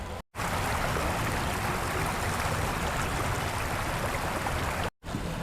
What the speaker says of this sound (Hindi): यहाँ गंगा जी की आवाज़ आ रही है, बड़ा अच्छा लग रहा है।